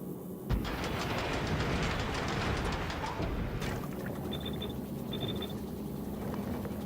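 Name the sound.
train running in Factorio video game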